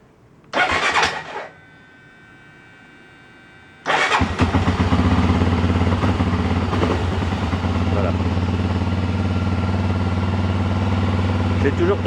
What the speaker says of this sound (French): je vais d'ailleurs le démarrer pour qu'on entende le bruit moteur qui est très sympa